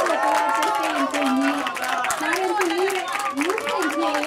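A room of guests applauding Dana Săpui at a birthday gathering, dense continuous clapping with crowd noise and voices running through it for a few seconds.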